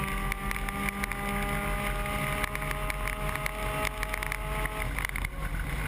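A high-pitched Suzuki Swift race car engine screams steadily from onboard amid heavy wind buffeting, its tone holding and shifting slightly before dropping away near the end.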